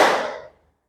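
A single sharp group clap from a class of students during a lesson, loud at first and then tapering off quickly into silence.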